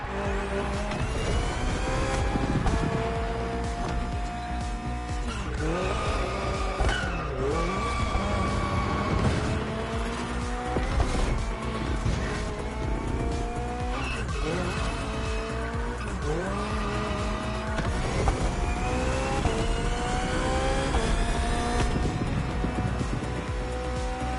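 A hybrid V8 race car in Crew Motorfest on PS5 roars continuously up and down through gear changes, loud and close, with tire squeal and skidding mixed in across a steady driving run.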